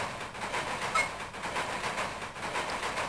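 A train rolls along in a Fullmetal Alchemist video game, a steady rumbling rattle with faint clicks throughout and no one speaking.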